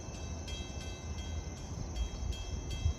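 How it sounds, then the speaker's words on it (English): Long Island Rail Road Montauk Branch train 8702, eastbound from Jamaica to Montauk, passing with a steady heavy rumble, rhythmic wheel clacks over rail joints and a faint high whine, continuous and close. "8702 en route from Jamaica to Montauk. This train appears to be running year-round now."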